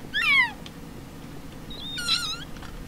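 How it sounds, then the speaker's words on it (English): A high, thin squeak made by breathing in through a partly closed windpipe, two short wavering rising-and-falling squeals about two seconds apart, faint over quiet background hiss. "I suppose I kind of just breathe in and close my windpipe a bit so that it squeaks"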